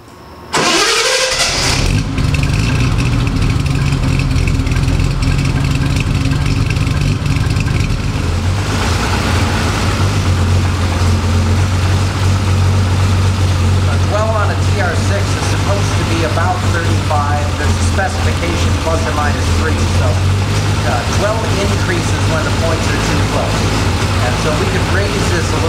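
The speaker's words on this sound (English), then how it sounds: "start the engine." A British sports car engine fitted with SU carburetors cranks and fires, then settles into a steady, loud idle with a low rumbling hum throughout, close by.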